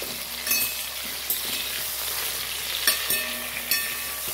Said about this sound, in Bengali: এই আলু আর বেগুনগুলোকে আমি তেলের মধ্যে ভেজে নেব।